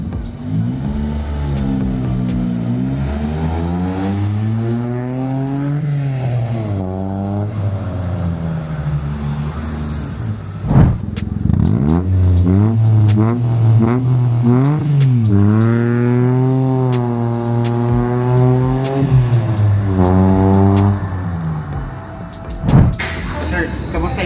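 A Mitsubishi Mirage with a stainless resonator exhaust replacing the stock one revs repeatedly, the engine note climbing and falling in several loud, close pulls. A brief knock interrupts midway.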